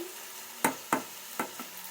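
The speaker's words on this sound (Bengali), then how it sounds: "এইরকমই লাল লাল করে সুন্দর করে ভাজতে হবে করলাগুলোকে" Bitter gourd slices fry in oil in a pan, a soft steady sizzle broken by three or four sharp scraping stirs of a spatula, close and with no talking.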